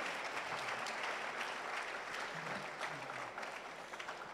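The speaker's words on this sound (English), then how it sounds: "Can we clap for him?" Audience applause at a university research week ceremony, a steady dense wash of clapping from a large crowd, sustained and even throughout, heard at a moderate distance.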